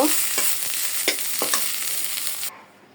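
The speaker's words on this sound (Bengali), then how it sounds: "আমি রসুনের সাথে একটু দন্যা পাতাও বেজে নিচ্ছি" Garlic and coriander leaves frying in a pan give a soft continuous sizzle with a few sharp stirring clatters, then the sound drops away abruptly near the end.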